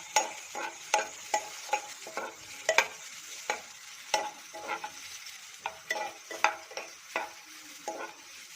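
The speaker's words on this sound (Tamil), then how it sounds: "உளுத்தம்பருப்பு செவந்தது வெங்காயம், கருவேப்பிலை, போட்டு நல்லா வதக்கிக்கோங்க." Onions and curry leaves sizzle and crackle in a hot pan while a spoon stirs them, with irregular scraping clacks against the metal.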